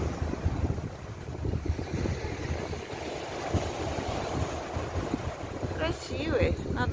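Sea waves and gusting wind at the shore in Lazarevskoye, where a pirate-style ship rocks on the swell; a constant, rushing surf and wind noise fills the clip, with a faint squeal near the end.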